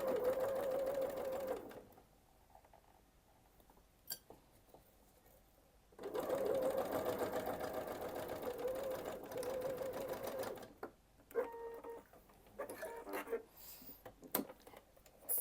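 A sewing machine stitching an invisible zip into the Ophelia dress, whirring in two steady runs with a pause between, followed by softer handling noises and brief starts.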